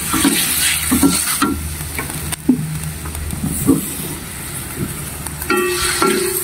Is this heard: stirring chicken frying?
yes